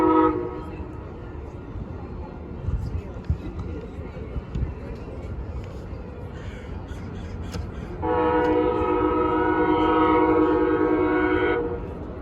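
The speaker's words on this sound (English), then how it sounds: "I'll get back to you guys once the train arrives." An Amtrak Coast Starlight train pulls into a station, a low rumbling approach building under nearby chatter before a loud sustained horn blast sounds for several seconds near the end.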